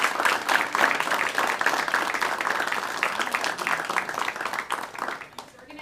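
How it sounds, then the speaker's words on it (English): An audience claps at a storytelling event for Global Travel Scholars, a dense, loud and sustained wash of hands that carries on steadily before tapering slightly near the end. "Let's give another round of applause for our Global Travel Scholars"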